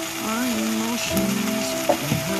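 Kashmiri chili powder, turmeric and cumin powder sizzle steadily in a pan for a soybean curry, a close, continuous frying hiss with a tonal hum running through it.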